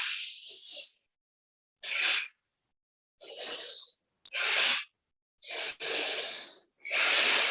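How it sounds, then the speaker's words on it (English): Exaggerated, forceful breaths during guided breathwork, a series of loud airy exhales and inhales, about six in a row with short silent gaps between them, close and with no talking. "Yeah, you can hear your breath."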